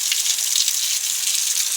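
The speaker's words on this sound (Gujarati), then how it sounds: "મસ્તનો વરસાદ આવે છે જો" Steady rain falls on a village farm, a continuous close hiss of drops on surfaces that holds without a break and with no voices.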